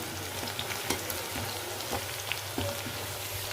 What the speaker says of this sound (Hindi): यहाँ पे मैंने गैस बहुत तेज़ कर दिया ताकि प्याज जो है ना अच्छे से ब्राउन हो जाए